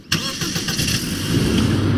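The engine of the Stinger car in a Vice City-themed Garry's Mod addon cranks and catches, then settles into a steady idle with a slight rev building near the end, close and fairly loud with no talk.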